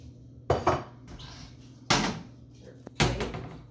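Bowls and dishes being grabbed and set down in a kitchen, three distinct clattering knocks of ceramic with a brief metallic clink, separated by quiet pauses.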